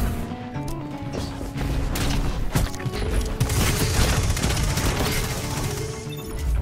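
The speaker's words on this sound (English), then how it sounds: "This is still a phenomenally good hand cannon." Rapid, sustained hand cannon gunfire in a video game, shots crackling over a busy mix of game effects, loud and continuous throughout.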